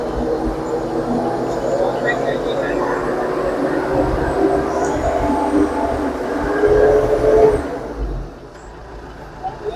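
A 105 hp tractor engine runs while its RPM is being set, giving a steady close drone that swells slightly and then drops back to a lower idle near the end.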